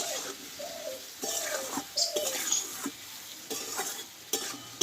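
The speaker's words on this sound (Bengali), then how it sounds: "এই আমটা কিন্তু তেলে নাড়াচাড়া করতে করতে কিন্তু আমটা পুরো একদম নরম হয়ে গেছে" Raw mango pieces stirred in hot oil for pickle, a soft sizzle under repeated scraping strokes of a spoon in the pan, with a few brief higher squeaks and clinks between the stirs.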